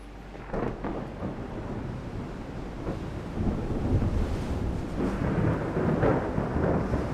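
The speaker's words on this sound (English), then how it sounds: "What a messy storm." A stormy sea battle scene in the naval strategy game Ultimate Admiral Dreadnoughts, with heavy rumbling thunder, rain and wind-driven surf rolling continuously, swelling louder in the second half, with no voices.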